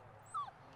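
A husky puppy, one of a litter of Iditarod sled-dog pups, gives a single short, high whimper up close over quiet background.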